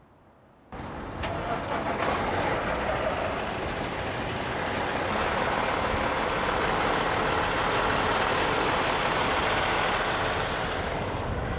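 A CDL training truck starts a backing exercise with a sudden onset of steady, broad engine and road noise that keeps rumbling evenly for over ten seconds, with no voices.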